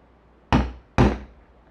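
A hammer strikes an eyelet punch set twice, two sharp, loud, close knocks about half a second apart with quick decay.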